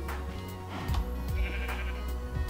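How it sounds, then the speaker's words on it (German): Sheep bleating in the Minecraft video game, several short wavering bleats in quick succession, loud and close over a low background hum. "jetzt kommen sogar auch noch zwei Schafe mit, das ist perfekt"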